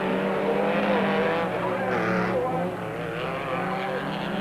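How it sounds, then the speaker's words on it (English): A Ford Courier race truck with a single-speed gearbox and a lone rear brake disc skids at the limit in a 1997 Super Series rally, its engine straining steadily with squealing tires sliding through a loose corner, loud and close throughout. "Piazzamusso was pushing his creepy crawly Ford Courier to the limit"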